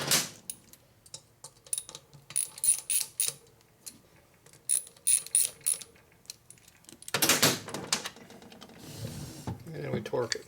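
Torque wrench ratcheting while tightening an S&S 88ci big bore motor on a 2001 Indian Scout, heard as bursts of quick, close metallic clicks, followed by louder mechanical clatter and handling noise.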